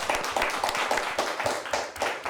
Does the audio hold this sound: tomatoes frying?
no